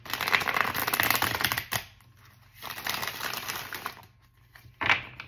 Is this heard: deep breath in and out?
no